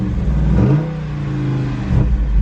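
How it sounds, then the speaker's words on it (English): A 2021 Jeep Wrangler Rubicon 392 with a V8 HEMI engine revs loudly and close by, with a deep rising roar that eases off and then climbs again, heard alone. "I'm gonna give y'all a little rev real quick."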